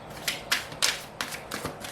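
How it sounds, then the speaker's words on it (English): Tarot cards being shuffled by hand, a series of crisp papery riffles and slaps in irregular bursts, fairly close and quiet with no talking. "I always like to shuffle to see what the first card is"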